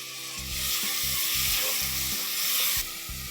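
Finely chopped tomato dropping into golden-brown onion frying in a pan for mutton masala, a loud burst of sizzling with rhythmic low scraping stirs, then the hiss fades near the end.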